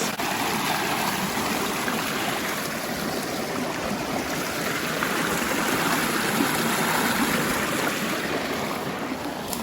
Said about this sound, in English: come back to the little river, little stream, should I say, and I am going to try and cross